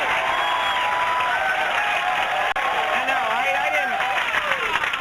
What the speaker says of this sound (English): I didn't say that to get cheap applause, though I'm really glad it worked